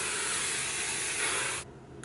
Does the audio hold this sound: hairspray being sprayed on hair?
yes